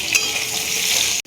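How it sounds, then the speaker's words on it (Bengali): Boiled elephant foot yam pieces frying in hot oil, a close, steady bright sizzle lasting about a second before cutting off abruptly. "ওলগুলো ভেজে নেব।"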